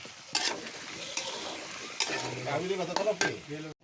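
Potatoes and other vegetables sizzle in a hot pan close by while a utensil stirs them. Several sharp bursts of hiss and scraping rise over a steady frying bed, and a voice briefly sounds near the end.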